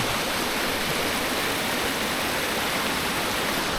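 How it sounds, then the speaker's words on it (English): A waterfall flows in a loud, unbroken roar of rushing water, close by and steady for the whole stretch. "right next to this waterfall that is flowing rather well for what it is"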